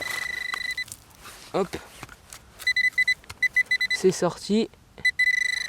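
A metal detector emits a run of repeated bright electronic beeps as it sweeps over a buried find during a winter detecting outing, with short speech and shuffling in between.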